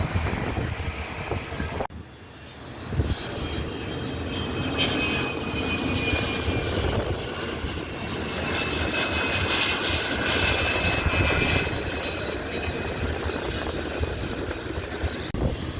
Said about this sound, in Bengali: এয়ারফোর্সের আরেকটি বিমান চলে এসেছে বিমানটি দেখুন সত্যি অসাধারণ বিমানের ল্যান্ডিংটিও খুব সুন্দর ছিল